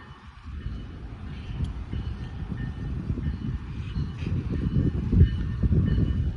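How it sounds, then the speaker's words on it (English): A train passing outdoors, a continuous low rumble and clatter of rail cars that builds gradually in loudness, with a brief sharp squeal near the end. "Oh, there's that train."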